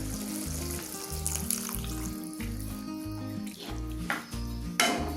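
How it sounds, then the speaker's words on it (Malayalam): Hot water is poured into a coconut-milk egg curry, with a splashing, sizzling wash that rises and falls while a rhythmic, thumping music beat runs underneath the whole time. "ഞാൻ ചൂടുവെള്ളമാണ് ഒഴിക്കുന്നത്"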